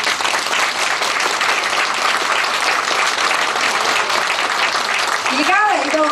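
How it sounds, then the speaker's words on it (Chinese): A large audience at a community forum applauds continuously and densely to welcome arriving guests, the clapping steady and loud throughout, with a short rising tonal sound near the end. "嘅掌声欢迎佢哋"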